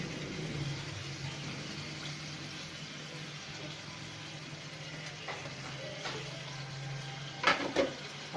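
Cut potatoes being stirred into a frying masala for aloo karahi, giving a steady low sizzle throughout with a few sharper clatters of the spoon against the pan near the end.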